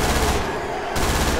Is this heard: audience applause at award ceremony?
no